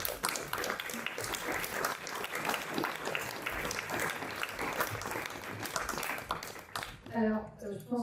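Applause breaks out for a speaker at a summer political gathering of progressives, a full room clapping steadily for several seconds before the clapping cuts off and a voice begins speaking.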